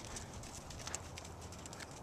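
A horse trots in a new setting while being schooled toward horse shows. Its hooves give a quiet, steady clip-clop rhythm of soft, evenly spaced thuds over faint ambient noise, with no talk.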